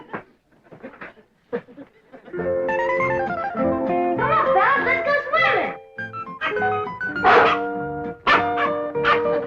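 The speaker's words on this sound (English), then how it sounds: "Scary dog." A dog barks in a kitchen scene from The Beverly Hillbillies, a 1960s TV sitcom, with short sharp barks mixed among people talking and noise from the show.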